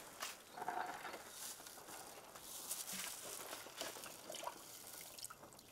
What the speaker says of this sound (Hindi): ये वाला पानी मग्गे से डाल लो, क्योंकि ऐसे में डुलेगा